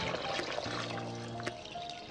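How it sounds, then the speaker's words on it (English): Water pours into a pot of Nigerian white soup (ofe nsala) that has been steaming, a continuous splashing trickle with rising tonal ringing as it fills, close and moderately loud. "so we're going to add water"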